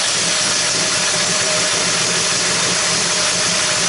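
A Streetbeasts Cobra 427 replica engine runs steadily, a continuous dense roar with a constant hum, loud and close, no talk over it.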